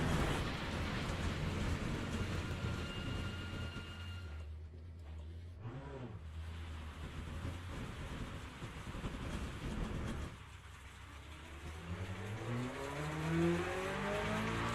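Corvette race car engine in a sim racing game, a steady droning roar sustained throughout with shifting pitch, briefly dipping mid-run before climbing again with rising revs toward the end.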